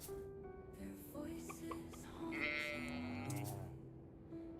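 Sheep bleating in the farming video game Stardew Valley, a few wavering bleats heard clearly on their own with no talk over them.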